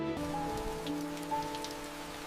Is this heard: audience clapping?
no